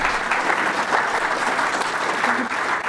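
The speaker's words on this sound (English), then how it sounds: "Okay, you can clap the dog if you like." Audience at a talk on medical detection dogs claps throughout, a close, loud, continuous patter of many hands that stays steady for about three seconds, with no speech over it.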